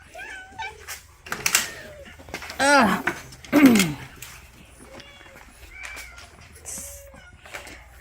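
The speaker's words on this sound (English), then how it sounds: "here's the kitty cats." Several cats meow in short bursts around a person cleaning animal cages indoors, with one drawn-out, wavering meow and quieter mews in between, while a person speaks briefly nearby.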